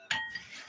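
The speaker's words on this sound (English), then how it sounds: "But let's do dishes." Dishes clinking while being washed at a kitchen sink, one bright ringing clink followed by a fainter knock, close and brief with no talk.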